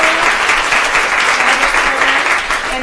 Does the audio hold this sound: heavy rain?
no